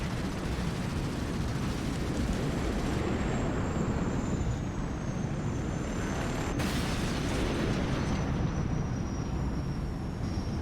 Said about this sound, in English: They just behave like regular Stinger missiles.